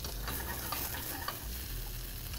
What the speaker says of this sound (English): A little sizzle, sizzle.